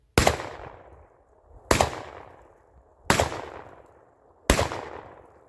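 Four loud shotgun blasts from a Panzer EG200 firing Fiocchi shells, spaced about one and a half seconds apart, each a sharp crack with a ringing decay, no talk between them.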